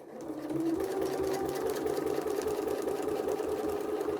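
A sewing machine stitches a placemat with ruler work, running in a steady rapid mechanical chatter that starts after a brief lead-in and continues evenly and close by, with no talk over it.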